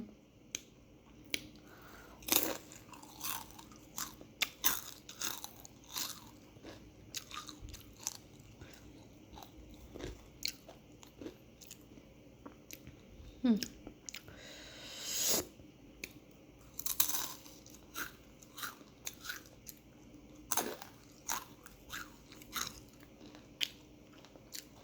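Takis lime chili rolled tortilla chips being bitten and chewed close to the mic, with sharp crunches at irregular intervals and softer chewing between them over a quiet background, and no talking.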